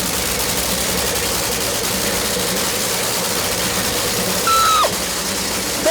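A Top Fuel dragster engine running during a warm-up, a loud, steady rumbling roar that stays constant throughout, with a brief higher squeal near the end.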